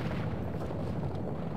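Helicopter gunfire hitting a vehicle in Modern Warfare II, a dense, muffled burst of rumbling impacts and rapid fire that booms steadily through the short moment.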